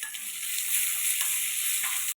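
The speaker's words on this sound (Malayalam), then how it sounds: "ഇതിലേക്ക് നമ്മുടെ അണ്ടിപ്പരിപ്പും മുന്തിരിയും കൂടെ ഒന്ന് വറുത്തിടാം" Cashews and raisins fry in a pan for Onam payasam, giving a steady, close, bright sizzle with faint stirring scrapes and no voices.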